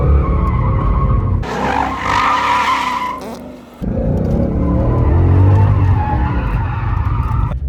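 A Ford Mustang accelerates hard in second gear, its engine roaring loudly as the tires skid and squeal, with a brief break in the middle before the engine noise surges back.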